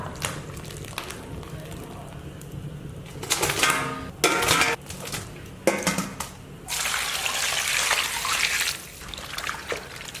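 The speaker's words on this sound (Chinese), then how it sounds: "把过好水的鸡腿捞出来再洗一下。" Blanched chicken legs rinsed under running water, with bursts of splashing and trickling as the pieces are handled, loud and close, separated by quieter gaps with faint background noise.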